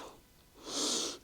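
A forceful breath pushed out during an exercise class, a short airy exhale swelling midway and holding briefly, close and fairly quiet, with no talk over it.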